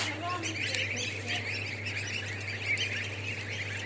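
A dense chorus of many newly hatched chicks chirping continuously, close by, beside an incubator, over a steady low electrical hum.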